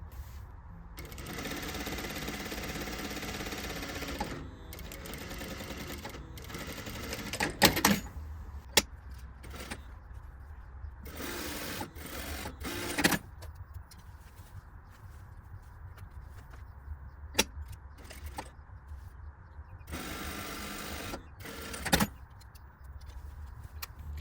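A sewing machine stitches down the pockets of a circle skirt in bursts at a half-inch seam, with pauses, back tacks and small clicks of handling between runs.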